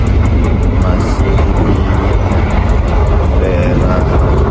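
A commuter train travelling near Cikarang, Bekasi gives a constant loud rumble and rolling rail noise from inside the carriage, with faint rhythmic clicks running through it.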